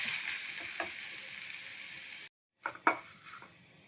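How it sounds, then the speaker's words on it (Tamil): Grated coconut, green chillies and spices fry in a pan with a soft, steady sizzle, broken by a short pause and a few light utensil clinks and scrapes. "எல்லாமே போட்டு ஃப்ரை பண்ணிக்கலாம்."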